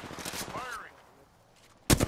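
Gunfire in a shooter video game, a burst of rapid shots early on, then a quieter stretch before a loud, sharp volley at the close.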